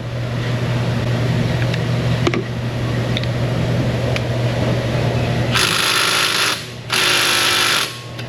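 An air impact gun with a swivel loosens a car strut bolt in a repair shop, firing two loud hammering bursts of about a second each near the end, after a steady mechanical hum.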